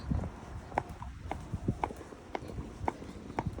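A horse out hacking walks along under its rider, its hooves landing in a steady, even clip-clop rhythm, fairly close and clear over quiet outdoor background.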